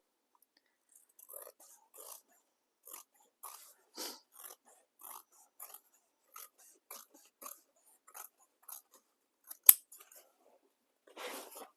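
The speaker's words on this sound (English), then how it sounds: "So we're trimming 3 of the sides." Scissors trim the sides of a fabric tote bag in a quiet room, a series of short, crisp snips spaced about a second apart, with one sharper clack near the end.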